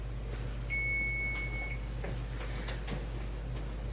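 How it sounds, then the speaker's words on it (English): A kitchen oven timer gives one sustained electronic beep while a cabbage roasts, followed by a few soft knocks and clatters against a low steady hum. "timer beeped"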